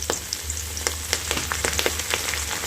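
Curry leaves and dried red chillies fry in hot oil for tamarind rice, a close, steady crackling sizzle with frequent sharp pops and spits throughout, under a low hum, with no talking.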